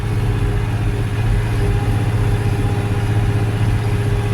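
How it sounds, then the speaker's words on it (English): A small TN55S tractor engine idles steadily close by, a continuous low rumble with a constant rhythmic throb and no pauses or speech. "It's testing the little tractor though."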